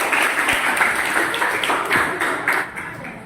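A school class clapping hands together in a classroom, a burst of many claps up close that thins out and fades toward the end.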